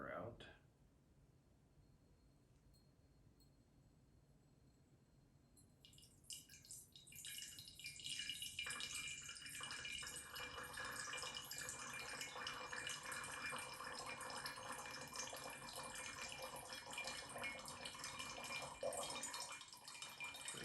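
Water sample drains from a separatory vessel during solvent extraction, starting as faint trickling and swelling after a few seconds into a steady, close splashing flow that runs to the end.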